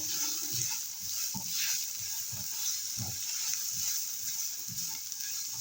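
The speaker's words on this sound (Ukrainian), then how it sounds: "Перемішуємо." Champignon mushrooms frying in a pan and stirred, a steady soft sizzle with irregular scraping taps from the stirring utensil, close but fairly quiet.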